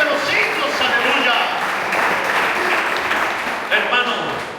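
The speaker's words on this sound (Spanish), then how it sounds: "Denle ese aplauso al que vive y reina para siempre por los siglos de los siglos, aleluya." A church congregation claps and cheers in praise, a dense wash of applause with a voice speaking over it throughout.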